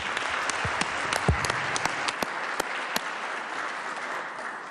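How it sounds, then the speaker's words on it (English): Lawmakers in the West Virginia Legislature chamber applaud, a steady round of clapping with a few distinct louder claps close by, echoing through the hall. "I think he deserves a nice round of applause"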